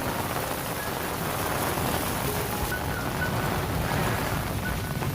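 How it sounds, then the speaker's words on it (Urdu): Heavy rain pours steadily in Dadyal, Azad Kashmir, a dense, loud, continuous hiss of drops striking surfaces close by, with no talking. "سبحان اللہ بہت ہیوی بارش بہت ہیوی بارش بہت ہی زوردار بارش."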